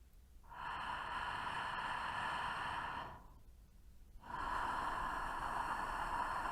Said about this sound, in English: Keep on with the throat friction.